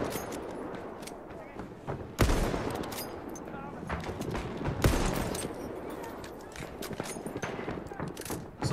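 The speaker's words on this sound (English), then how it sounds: "Machine gun!" Machine gun fire in the Battlefield 1 video game: dense, loud bursts of rapid gunfire with heavy blasts, mixed with other shots and shouted voices throughout.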